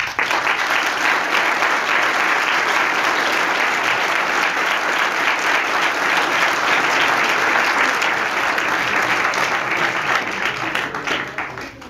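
An audience gives strong, sustained applause for a speaker at a talk on the Catholic religion in Franco's Spain. The dense clapping holds steady for about twelve seconds before thinning out at the end.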